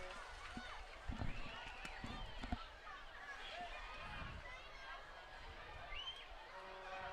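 A football stadium crowd reacts to a play at a game, a broad roaring hubbub of cheers and chatter with a few sharp bursts in the first seconds, steady throughout.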